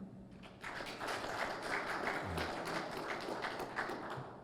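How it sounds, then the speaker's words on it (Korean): Audience applause at a robot-industry conference talk show in Incheon, a steady wash of many hands clapping at moderate distance that holds evenly for several seconds. "큰 박수 부탁드립니다."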